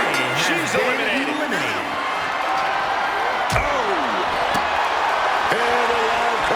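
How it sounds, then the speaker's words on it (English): In the WWE 2K26 wrestling game, a wrestler slams into the barricade with sharp impacts over constant crowd roar, while commentators talk throughout. "Crashing into the barricade with such force."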